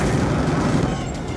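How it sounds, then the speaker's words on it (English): Sustained automatic gunfire from auto turrets in the video game Call of Duty Black Ops 2, a loud dense continuous burst that fills the whole moment without pause. "The auto turrets are tearing our men to shreds!"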